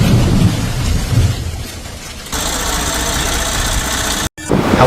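Storm Herminia wind and rain on the French and English coast, a loud continuous roar of gusts and downpour that shifts to a harsher hiss partway through, then briefly cuts out before resuming.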